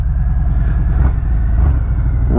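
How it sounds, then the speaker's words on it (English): The exhaust of a Harley-Davidson Fat Bob motorcycle runs at a steady loping idle, loud and close, with an even low rumble throughout and no voices. "That exhaust sounds amazing."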